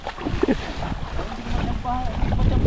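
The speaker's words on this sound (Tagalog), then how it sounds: "Ang lakas po ng hangin, no?" Strong wind buffets the microphone outdoors by water as rumbling gusts. A person speaks briefly beneath the noise.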